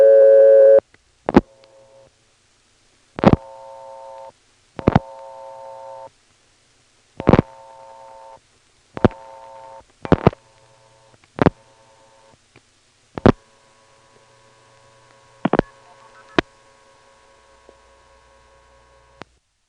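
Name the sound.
MF signaling tones from a 1977 step-by-step telephone exchange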